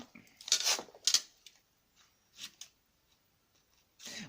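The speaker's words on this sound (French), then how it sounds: "quand on nettoie la paire de ciseaux, ça coupe, ça va beaucoup mieux" A pair of scissors snips a few times during ink-storage crafting, with quick crisp cuts clustered early and a couple more later, sparse and fairly close amid quiet handling noises.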